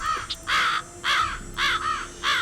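A crow-like bird call in the Nancy Drew: Ghost Dogs of Moon Lake game, four loud harsh caws in a steady rhythm with a short chirp before them, close and clear with no talk.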